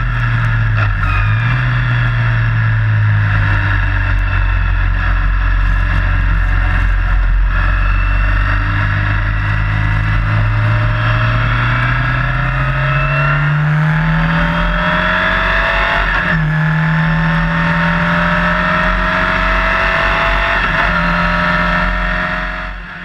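A Formula Ford race car in wet qualifying at Donington drones loudly and continuously, its engine pitch rising and falling as the car accelerates and slows, with faint spray and road noise beneath.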